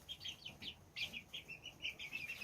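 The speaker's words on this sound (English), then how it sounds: "I think those are happy sounds, that chirping." Soft, high chirps from small chicks, quick and repeated in uneven bursts, faint and close.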